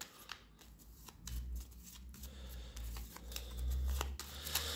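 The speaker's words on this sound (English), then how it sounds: "All right, those have had a nice little shuffle." A deck of cards from the Next Station London board game being shuffled by hand: a close, soft papery riffling and flicking that runs steadily throughout, with occasional sharper snaps.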